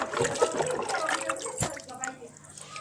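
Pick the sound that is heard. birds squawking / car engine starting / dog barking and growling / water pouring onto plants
water pouring onto plants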